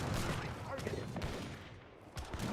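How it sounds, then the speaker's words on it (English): Heavy cannon fire a volley in a strategy game match, with several rough, overlapping booming shots clustered near the start and a few more bursts later, heard under a faint voice. "that's one big volley from the heavy cannon"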